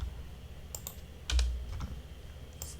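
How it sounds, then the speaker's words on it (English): Keys clatter on a computer keyboard during a beginner Python coding session writing a rock, paper, scissors game, a few scattered close taps and short bursts with one heavier thump near the middle, no voice. "Let's type"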